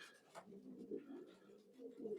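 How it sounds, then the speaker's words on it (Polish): Soft, low pigeon cooing repeats in gentle rolling phrases, fairly close, with faint background noise and no talking. "a ten co tutaj sobie tak grucha, to synek Eliota"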